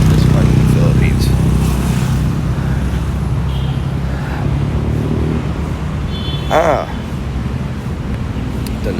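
Steady road traffic on a busy street in Makati, Metro Manila, a continuous near rumble of cars and motorcycle engines with a brief higher whine partway through, and faint voices murmuring underneath.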